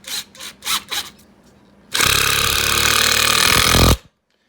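A Makita drill drives a No. 2 Phillips screw into 2x4 lumber, a loud steady whirring grind lasting about two seconds that stops abruptly, preceded by a few short handling bursts.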